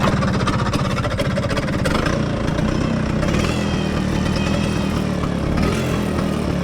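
Several Vespa scooters, a Super and Excel models, idle together before a group ride from Cawang, their engines putting out a steady, loud, continuous mid-pitched putter throughout.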